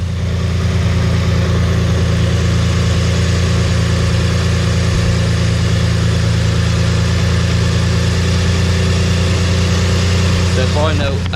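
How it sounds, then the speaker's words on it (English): A Mitsubishi Eclipse engine idles while warming up, its exhaust giving a loud, steady low rumble close by that holds an even pitch throughout, with a faint quick rise near the end. "Let it warm up a little bit before I actually rev it up a little bit"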